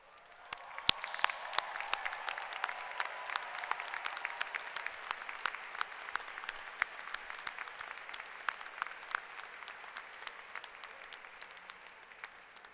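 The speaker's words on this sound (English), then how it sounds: "would you please join me and stand in a round of applause for your family and" At a university graduation convocation, a large audience in the stands gives a long round of applause for family and friends, a thick, even patter of clapping with a few louder individual claps standing out, slowly fading.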